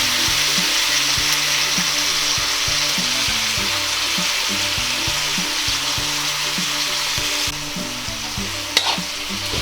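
Beef strips hitting a hot pan with lightly browned garlic sizzle loudly and steadily, with repeated scraping and stirring knocks throughout and a brief sharp clack near the end; no one speaks.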